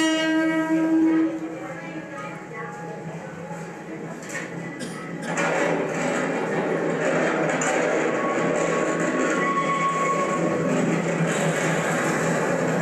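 A train rolls through in Thailand, its broad rumble swelling in about halfway and holding steady to the end, with people's voices audible around it.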